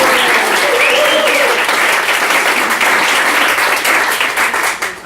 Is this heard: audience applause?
yes